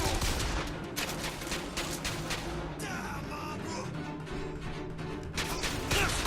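Rapid gunfire in Bioshock Infinite, a pistol firing a quick series of sharp, loud cracks with short gaps between bursts, backed by game combat noise.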